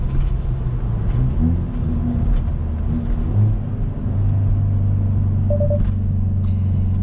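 A 2021 Hyundai Veloster N engine rumbles through a rev-matched gear change during night driving. The engine note blips and shifts pitch, then settles into a steady, close-up drone under faint road noise, with no talking.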